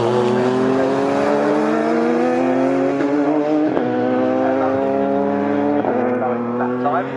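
Race cars lapping the Snetterton circuit during an all-comers race, a loud sustained engine drone with rising pitch as they accelerate, heard under continuous commentary.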